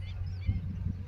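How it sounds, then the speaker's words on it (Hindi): Birds call at a river confluence along the Narmada, giving a few honking cries over a low, steady background hum, close and moderately loud, with no speech over them. "पक्षी कलरव कर रहे हैं।"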